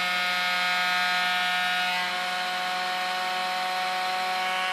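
A CD spins at high RPM on a sensorless BLDC motor driven by a dsPIC30F4011 controller, giving a loud, steady high-pitched whine with a dense stack of tones that hold constant throughout.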